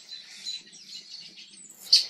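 Robins in a migrating flock call steadily in light, high chirps, with a mockingbird joining in; a sharper, louder call stands out near the end, all outdoors with no talk.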